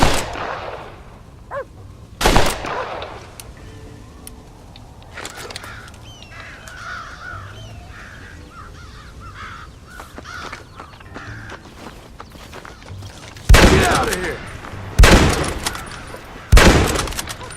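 Gunshots and cawing crows in the Red Dead Redemption video game, a cornfield setting: several loud shots burst near the start and in a quick cluster near the end, with crow caws scattered through the middle.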